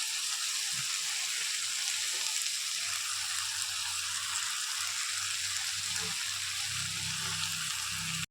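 Kohlrabi dropped into fried spice paste in a pan on a Bengali home stove, giving a steady, close hiss and crackle of sizzling oil with faint stirring knocks.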